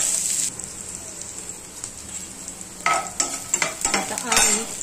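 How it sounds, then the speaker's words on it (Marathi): Peanuts fry in hot oil, first a quiet hiss, then sharper bursts of crackling and stirring scrapes near the end, close and moderately loud, no voices. "थोडीशी शेंगदाणे फ्राय होतील त्याच्यामध्ये"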